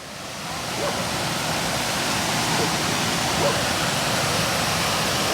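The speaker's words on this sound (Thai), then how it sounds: "มีน้ำตกน้ำตกก็มีไฟด้วยเปลี่ยนสีได้ด้วยนะทุกคน" A decorative waterfall with colour-changing lights pours in a steady, dense rush of falling water that stays even and fairly loud throughout.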